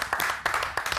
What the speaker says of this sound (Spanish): te despedimos con un aplauso a todos